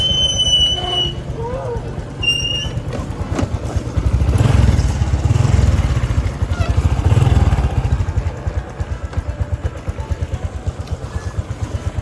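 A motorbike ridden for fun by a young rider in a wheelie-style setup runs continuously near and loud, its engine throbbing and swelling midway, with faint high squeals and whistles above.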